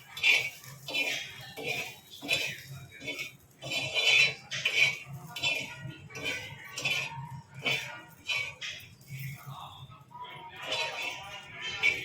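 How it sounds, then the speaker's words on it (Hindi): Chana chaat being mixed in a bowl, with boiled chickpeas and other ingredients tossed by a spoon in a steady run of soft scrapes and clinks against the bowl, close and moderately loud. "सारी चीज़ों को अच्छे से मिक्स कर लेंगे इस तरीके से।"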